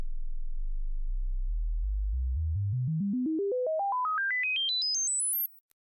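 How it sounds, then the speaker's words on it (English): A stepped sine test tone used for characterizing electronics climbs in discrete pitch steps from 20 Hz up to 20 kHz, loud, steady and alone, ending abruptly with a couple of faint ticks. "The sweep typically used for characterizing electronics is a stepped frequency sweep from 20 Hz to 20 kHz."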